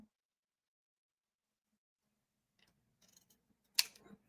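Scissors make a few faint, quick snips while trimming a paper cloud for a craft project, coming after near silence and ending in one sharper cut.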